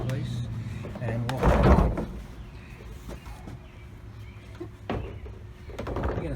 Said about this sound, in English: lifts the door into place